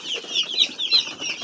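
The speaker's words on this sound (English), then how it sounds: "Chicken again, new chicken again." Dozens of newly arrived broiler chicks on cardboard bedding at a poultry farm, peeping continuously in a dense, high-pitched chorus, close and fairly loud.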